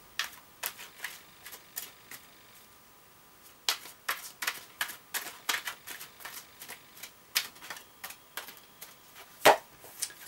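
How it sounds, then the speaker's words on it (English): Tarot oracle cards being shuffled by hand in repeated quick riffling bursts, close and crisp, with short pauses between runs and one sharper slap near the end; no talking. "So that's the cards shuffled"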